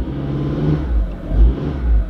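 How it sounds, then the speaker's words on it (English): A 2002 Acura RSX engine revs loudly up close while held on the brake in reverse, a low droning roar swelling and easing in repeated surges. "I'm just gonna hold the brake and the kind of like power brake it in reverse."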